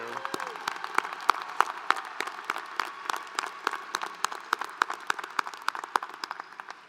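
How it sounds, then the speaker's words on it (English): An audience at a commencement ceremony applauds steadily, many hands clapping in a dense patter that holds at an even level for several seconds. "Another round of applause for each of these students."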